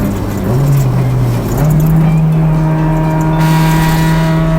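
A Honda CR-X del Sol with a B16A VTEC engine drones steadily from inside the cabin, the engine note dipping briefly as a gear changes, then climbing and holding a loud, continuous pitch.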